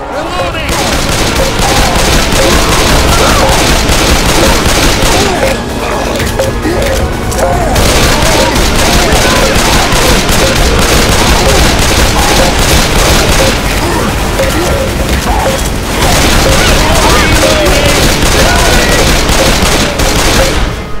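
Sustained gunfire in Left 4 Dead 2 during The Sacrifice campaign, dense rapid automatic bursts and booming shots that barely pause for twenty seconds, loud and close, with shouting voices now and then under the din.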